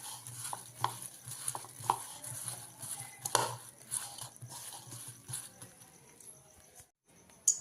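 Soaked soybeans are mixed with spices by hand, giving soft, quiet rustling and crunchy squishing with scattered taps and clicks, close and alone.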